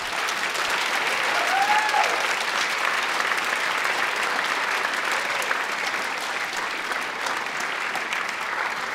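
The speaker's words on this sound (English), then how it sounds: "Let's give them another round of applause." An audience applauds at a school choral concert, steady sustained clapping filling the room for several seconds with a faint voice briefly heard early on.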